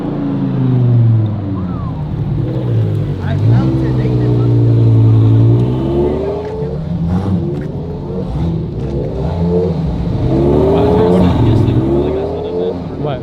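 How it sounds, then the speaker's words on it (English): At a car meet, a car engine revs loudly and continuously, its pitch rising and falling over and over, with people talking underneath. "That car is so loud, bro."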